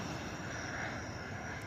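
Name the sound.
airplane flying overhead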